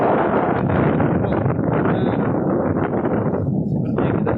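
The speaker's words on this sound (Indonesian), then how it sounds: "Nah, seperti saat ini di angin kencang ini." Strong coastal wind at Parepare, South Sulawesi, during tidal flooding roars and buffets the microphone in a loud, continuous rush with no pauses and no voices.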